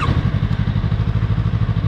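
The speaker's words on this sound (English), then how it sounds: "I'll be hitting the limiter in every gear intentionally, so that you know what the maximum speeds in each gear are." A 2024 Yamaha YZF-R3 motorcycle engine gives a brief, close, steady throbbing run of rapid even pulses with no voices.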